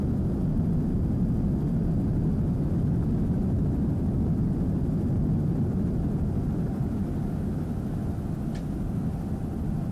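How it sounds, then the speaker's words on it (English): A 28-foot Warlock racing powerboat with a 500 hp Mercury inboard runs in a Factory class race on calm water off Cleveland, Ohio, its steady low engine drone heard from a distance for the whole stretch. "a 28-foot Warlock. Mercury powered, 500 horsepower inboard"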